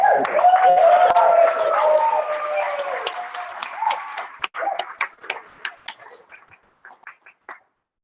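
Conference audience at a Pecha Kucha session applauding, a dense burst of clapping with a few whoops that thins out after a few seconds into scattered individual claps and fades away.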